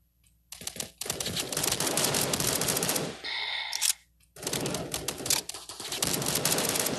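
Rapid automatic AK rifle fire from a multiplayer mobile shooter game crackles loud and close in long sustained bursts, with a short pause and a whirring game effect between them.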